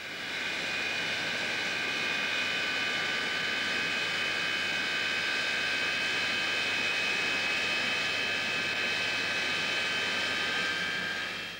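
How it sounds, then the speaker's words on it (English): English Electric Lightning jet with two Rolls-Royce Avon engines, a loud steady roar with a whining high tone held for the whole stretch, no talking. "The two Rolls-Royce Avon engines develop more power than a whole squadron of wartime bombers."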